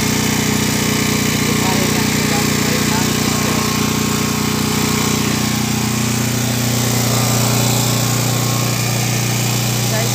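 A gasoline generator runs steadily and loudly up close, its high-pitched engine drone continuous and unbroken, with a slight shift in tone partway through.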